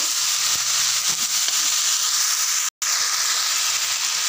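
Cut mixed vegetables fry in a pan with a steady, hissing sizzle like escaping steam that runs unbroken except for one very short dropout, close and fairly loud with no talking.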